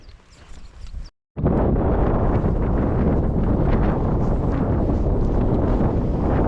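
Strong wind blows across a hilltop near Dolgellau, Wales, turning from a moderate rush into a loud, steady roar that buffets the microphone without letup. No voices are heard.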